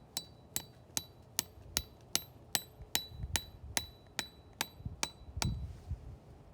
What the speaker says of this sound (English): Now I'm going to hammer it in gently,